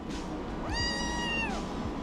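A kitten gives a single clear, drawn-out meow close by, with a steady low background hum and no talking.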